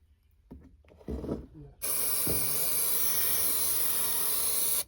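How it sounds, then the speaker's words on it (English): A few soft rustles and thumps, then adhesive spray for boat headlining hisses out in one loud, continuous, close burst lasting about three seconds. "So using the adhesive spray, you actually spray both sides."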